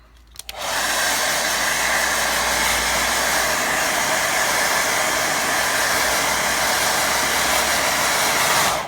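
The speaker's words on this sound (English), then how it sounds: "I'm going to give that a quick blast with dryer." A hair dryer blows steadily and loudly on a watercolour painting, a constant whooshing hiss with a low motor hum, running without pause after a brief start.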